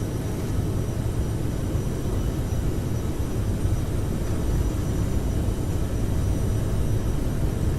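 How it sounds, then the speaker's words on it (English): CRJ700 jet engines at takeoff power in Microsoft Flight Simulator, a steady, loud, broadband roar that holds constant with no talk. "Takeoff power set."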